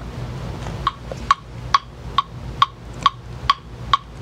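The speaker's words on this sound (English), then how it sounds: "A metronome is a device that makes repeated clicking sound like" A metronome ticks at a steady moderate pace, eight or so sharp, bright clicks evenly spaced over a faint low background hum.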